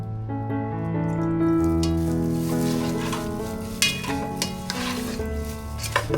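Pork with salt, seasoning powder and homemade caramelized sugar sauce sizzles in a pot while a utensil stirs it, giving a steady frying hiss punctuated by a few sharp clinks and scrapes toward the end.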